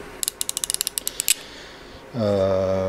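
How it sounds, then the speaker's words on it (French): A quarter-inch, 48-tooth TOPTUL ratchet wrench clicks in a rapid run of about a dozen sharp ticks, then falls quiet before a steady tonal hum starts up. "Ici on a une clé quart de pouce. Là c'est une 48 dents"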